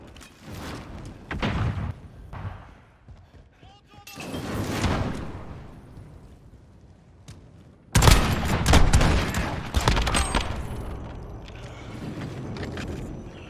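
Automatic rifle fire and scattered gunshots from a Modern Warfare 2019 multiplayer match, loud bursts that thicken into a sustained firefight in the second half, with game voice callouts mixed in.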